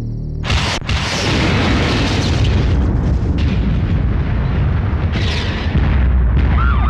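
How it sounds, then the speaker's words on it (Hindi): A huge blast as an electrical transformer blows up in a movie action scene, a deep roaring boom that keeps rumbling and crackling loudly for several seconds with bursts of debris. "ट्रांसफार्मर उड़ा।"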